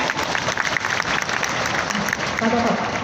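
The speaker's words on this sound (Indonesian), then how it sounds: "Tepuk tangan sekali untuk narasumber kita." An audience at a corporate CEO presentation breaks into dense, sustained clapping, with a voice briefly audible over the applause near the end.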